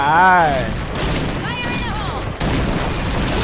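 Gunfire and an explosion in the Point Blank online shooter, a loud burst of shots and blasts running throughout, with someone talking over it.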